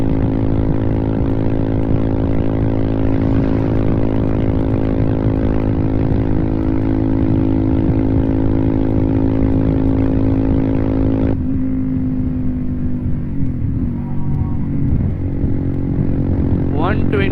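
A Royal Enfield Himalayan 411 fitted with a full-system Devil Pro Evolution exhaust runs at high speed, its steady loud engine drone heavy with wind rush; partway through, the pitch drops as the bike eases off.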